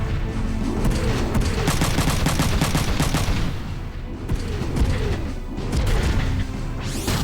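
Sustained machine gun fire in the Front Mission 3 video game, dense rapid bursts rattling loudly and almost continuously across the whole stretch with brief dips between volleys.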